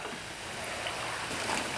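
Garlic peanuts being stirred while frying in a pan make a steady, dense crackling sizzle, close and even throughout, with no voices.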